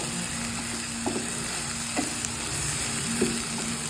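Cardamom, cloves, two bay leaves and ground black pepper frying in oil for chicken korma, a steady hiss with a few scraping stirs of the spoon against the pan, close and continuous with no talk.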